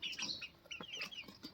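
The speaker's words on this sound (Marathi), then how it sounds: "हे बघा कोंबड्या आमच्या, ही कोंबडा आहे मोठा, कशी वळवळ करतात." Farmyard chickens and a big rooster give soft clucks and brief chirps in an uneven stream, faint and fairly close, with no talking.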